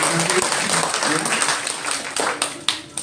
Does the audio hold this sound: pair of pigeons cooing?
no